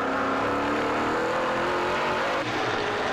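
A NASCAR Pinty's Series race car at the Leland 300 holds a loud, sustained engine roar under throttle, steady and close for the whole stretch with no talk.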